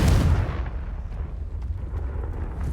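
A Confringo blast spell in the Hogwarts Legacy video game hits with a heavy booming burst up front, then fades into a rumbling, crackling tail.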